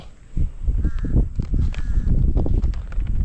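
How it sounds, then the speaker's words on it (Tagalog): Crows caw a few times, fairly faint, over a busy outdoor background of thumps and shuffling noise in a field where radishes are being planted. "Napakarami na naman ng uwak."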